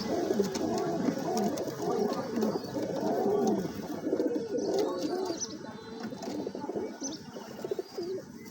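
Pigeons coo steadily nearby in soft, rounded, overlapping calls inside their enclosure, with no one speaking.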